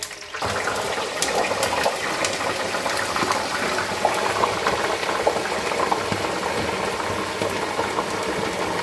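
Chicken wings fry in hot oil with a loud, dense, continuous crackle and spatter that runs unbroken from start to finish.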